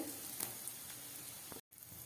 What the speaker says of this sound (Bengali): সমস্ত ফোড়নগুলো খুব ভালো করে ভাজা হয়ে গেছে